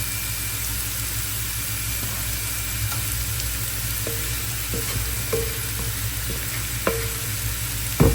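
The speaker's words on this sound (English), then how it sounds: "you want that set of rice to parch" Rice parches in a hot pan for Guyanese paper bag fried rice, a soft continuous sizzle with occasional scraping stirs and light clicks near the end over a low steady hum.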